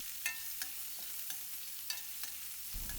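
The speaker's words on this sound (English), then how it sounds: "Cook these onions very well." Small chopped onions fry softly in a pan, with a quiet, even sizzle and a few light scrapes of a spoon stirring them at irregular moments.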